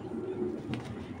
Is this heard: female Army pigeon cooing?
yes